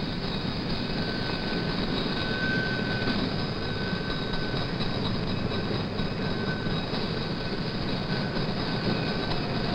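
The Super Chief passenger train sits at Albuquerque station with a steady, dense rumble and hiss of idling equipment, continuous and fairly loud throughout, with no voices.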